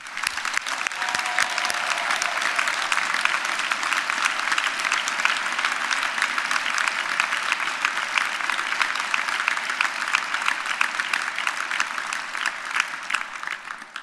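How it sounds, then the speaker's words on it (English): Sustained, dense applause from a large degree ceremony audience in Belfast, honoring graduates' families and friends, steady and loud throughout with no talking. "let's give them a tumultuous round of applause"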